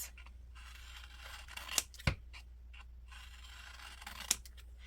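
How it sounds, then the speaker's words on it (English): Scissors snip strips of white sticky paper close up: a few sharp individual cuts spaced a second or two apart over a quiet background, with no talking. "So what I have been doing with this is just cutting some strips like this."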